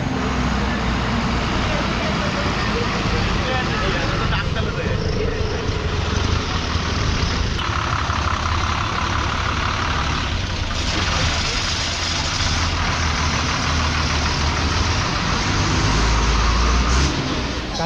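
A vehicle engine runs at the village market in Mithbav, Devgad, as a loud, continuous rumble that lasts throughout amid general roadside noise.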